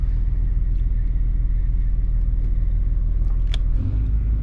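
A Newell coach engine holds a high idle, giving a loud, close, continuous low rumble with a steady pulsing throb and a brief shift near the end, with no talking.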